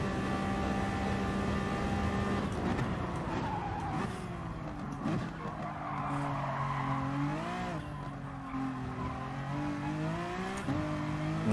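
A Honda NSX Gr.3 race car on a quick lap of the Nürburgring in Gran Turismo Sport, its engine droning steadily and rising and falling in pitch through gear changes, with tire squeal in the corners and no talk.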